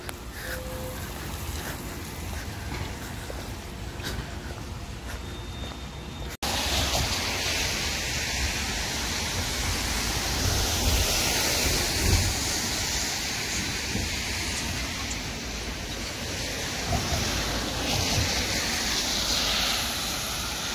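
Heavy rain pours outdoors in Hangzhou, China, as a dense, steady hiss that swells louder partway through and stays unbroken with no voices.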